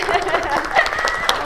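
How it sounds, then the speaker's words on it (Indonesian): Audience clapping at a school assembly, a short burst of scattered claps under a loud voice, close and fairly strong over a brief moment. "Semuanya tepuk tangan."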